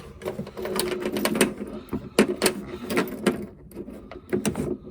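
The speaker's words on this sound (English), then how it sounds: "that's lock, unlock, lock, unlock." An oiled lock cylinder being turned repeatedly between locked and unlocked, giving a run of close, sharp mechanical clicks and clacks in an uneven rhythm, with no voices.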